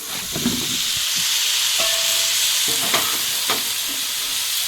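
Vegetables sizzle steadily in a hot pan, with occasional scraping and clinking as they are stirred, close and continuous.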